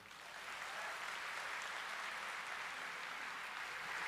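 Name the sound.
audience applause at a speech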